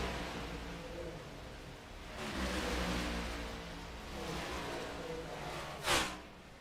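A race car engine drones steadily as the car speeds along pit road in the iRacing video game, with a mid-pitched hum swelling and fading and a brief sharper burst near the end.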